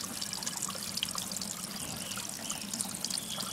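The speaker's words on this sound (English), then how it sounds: "And looks like the siphon's already kicked in." Water trickles steadily through an aquarium siphon as the tank fills to about an inch from the top, a continuous close dribbling flow with no talk.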